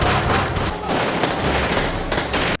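A fierce gunfight from the film Sunlight erupts in loud, dense bursts of rapid gunfire layered over each other, continuous and close before cutting off abruptly.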